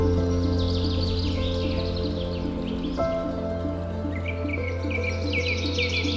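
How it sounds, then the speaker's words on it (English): Birds chirp and twitter in scattered bursts by a river at Katarniya Ghat, over a steady low hum and a constant background patter, moderately faint and without voices. "the chirping of birds"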